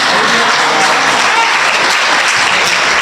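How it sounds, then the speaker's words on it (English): A church congregation claps steadily, a dense wash of hands filling the whole moment, loud and close, with no voices rising above it. "Y'all give that little cute little clap like we in a golf tournament"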